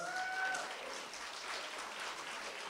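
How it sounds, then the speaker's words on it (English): Applause from an audience at an inclusive education event, a dense, steady wash of clapping that stays fairly faint and distant throughout, with a brief tonal sound near the start. "can you please give him a very resounding round of applause?"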